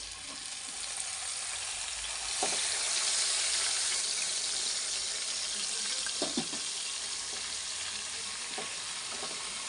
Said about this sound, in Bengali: এবার আমি এই তেলে দিয়ে দিচ্ছি আগের থেকে যে ম্যারিনেট করে রেখেছিলাম চিকেনগুলো